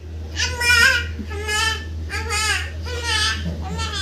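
A voice repeats several wavering, bleating calls in a row, imitating a cow's moo, close up over a faint steady hum.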